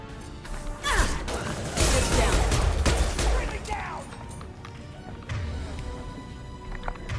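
Gunfire and concussive shot blasts from Mass Effect 2, a rapid burst of loud sharp shots and impacts with whooshing effects, easing into scattered hits and lower rumbles.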